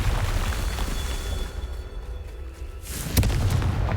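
A Confringo fire spell bursts in Hogwarts Legacy, a loud rumbling blast with a sharp crack near the end, heard alone without talk.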